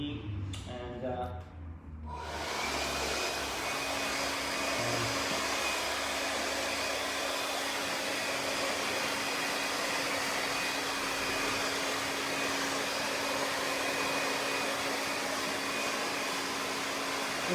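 A blow dryer runs on full heat and full blast while drying a mannequin's hair, a steady close airy roar with a constant hum that lasts throughout after a short stretch of faint handling noise.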